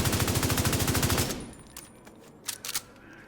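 Bighorn exotic assault rifle fired in a video game, a fast evenly spaced burst of loud close shots that stops abruptly, followed by a few scattered sharper impacts.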